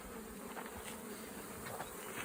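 Honeybees buzz steadily around a beehive frame, a dense, even drone close by with no voices.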